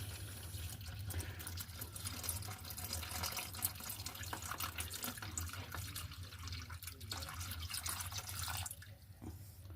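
Water pours steadily into an aquarium filter pipe to prime it, a continuous close trickle and splash that carries on for several seconds and eases slightly at the end.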